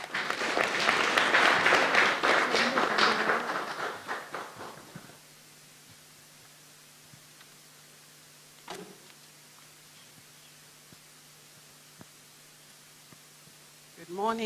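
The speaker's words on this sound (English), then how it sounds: "Can we give her a clap?" An audience at a women's agribusiness event breaks into loud applause for a speaker. It lasts about four seconds, then dies away into a quiet room with a low hum and a few small knocks.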